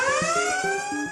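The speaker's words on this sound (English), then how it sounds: "Planet Fitness also has their notorious lunk alarm" A Planet Fitness lunk alarm going off in a gym, a loud, steady electronic siren-like tone with bright stacked harmonics, heard alone with a faint rhythmic thumping beneath it.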